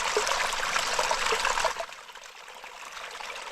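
Water from a dirty-water bag on the Appalachian Trail streams through a filter into Smartwater bottles, a steady close trickle that abruptly drops to a quieter, thinner flow partway through.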